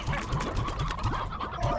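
Cartoonish chicken clucks and squawks from the Slime Rancher video game, several short calls repeating in a quick rhythm over a busy game soundscape, fairly loud and without talk.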